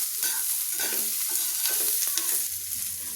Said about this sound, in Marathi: आता हे मी 2 मिनटं टोमॅटो मऊ होईपर्यंत चांगलं भाजून घेणार आहे.